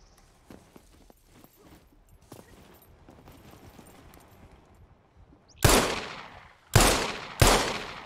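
Gunfire in the survival game SCUM: three loud, sharp gunshots spaced about a second apart near the end, after quieter footsteps and faint clatter.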